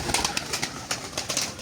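A three-year-old male breeding play pigeon coos softly in a loft, a few low, faint burbling calls with light rustling around them.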